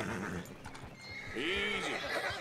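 A skittish horse whinnies in Red Dead Redemption 2, a rising and falling neigh in the middle of the clip, close and moderately loud among soft hoof sounds and other game noise.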